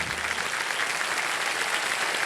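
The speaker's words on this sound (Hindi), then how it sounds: "तालियां बज जाए इनके लिए" Studio audience at a televised quiz show clapping for a contestant, a sustained, even roar of many hands close up, with no break.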